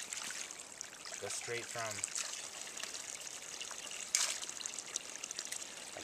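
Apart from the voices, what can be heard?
spring water trickling out of a piped wild spring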